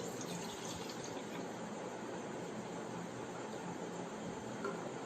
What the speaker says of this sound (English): Now I am going to transfer this water from this mug to this vessel.